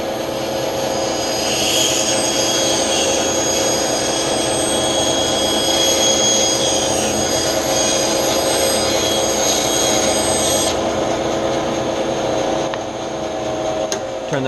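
A bandsaw runs at speed and cuts through wood with a steady, loud whine and rasping blade noise throughout. The pitch shifts slightly near the end as the cut finishes.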